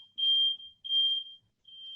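A smoke alarm set off by a smoky beef joint shrieks in long, piercing electronic beeps, three bursts separated by brief gaps, loud and steady with no talking over it.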